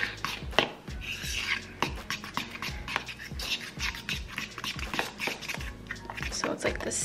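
An egg and grated cheese mixture is whisked in a bowl, making rapid, rhythmic scraping clicks of metal against the dish, fairly close and moderately loud, with talking over it.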